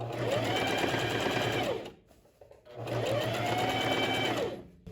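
Two steady runs of a sewing machine stitching a straight seam on a lined tailored vest, each lasting about two seconds with a short pause between, close and clear with no one speaking.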